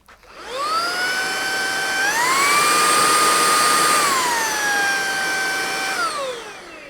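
A Lubluelu TPH06 cordless vacuum cleaner runs at maximum suction. It holds a loud, steady whine that steps up in pitch, stays high, then steps back down near the end.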